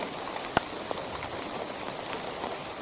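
Steady light rain patters on a surface, a soft continuous hiss with a few sharper drips standing out, faint and close.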